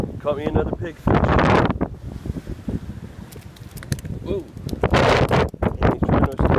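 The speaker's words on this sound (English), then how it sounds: "It's very windy, out on the pier." Gusty wind roars in bursts against the microphone on a fishing pier while someone talks intermittently over it, the loudest gusts near the start and end.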